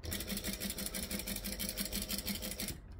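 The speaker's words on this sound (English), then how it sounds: "right now I'm sewing through that extra layer" A domestic sewing machine stitches through an extra fabric layer on a quilt block. It runs with a fast, even mechanical chatter at close range, then stops just before the end.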